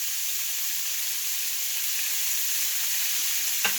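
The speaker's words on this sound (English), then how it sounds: "I'm going to fry it for a couple more minutes" Turmeric fries in a pan for Persian beef stew, giving a steady, even hiss and sizzle throughout, close by and with no voices, and one faint click near the end.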